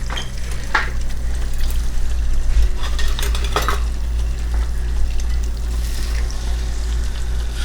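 Bacon frying in a pan, a steady loud sizzle with a few scattered clinks and stirring scrapes of utensils against the pan, no talking.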